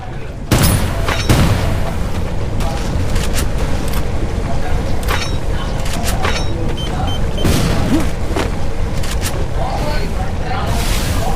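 Loud booming blasts from bombs in a multiplayer shooting game, several sharp explosive hits scattered across the stretch over constant game noise and rumble, with players talking over the action.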